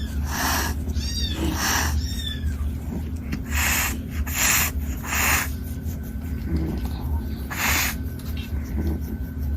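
Cat giving several short meows and chirps over a steady low hum, close and fairly loud, with scratchy rubbing sounds in between.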